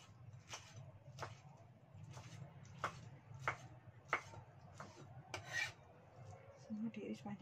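A knife slices vegetables into long strips for acar pickle, giving steady rhythmic rasping cuts about every half second on a board, close and fairly quiet.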